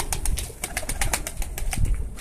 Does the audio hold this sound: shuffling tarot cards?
no